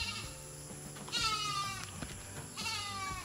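A goat bleats twice, loud and close, each a wavering, nasal cry, over steady background noise at its sleeping shelter outdoors.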